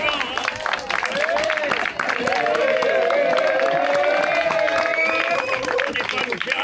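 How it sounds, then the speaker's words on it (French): Audience applause at a harbour concert, steady clapping mixed with loud voices and cheering from a lively crowd, continuous at full level. "Il faut applaudir, hein, c'est vivant, hein?"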